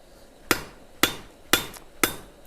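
A blacksmith's hammer strikes hot metal on an anvil, four sharp, ringing blows at an even, unhurried pace, close and clear with no talk.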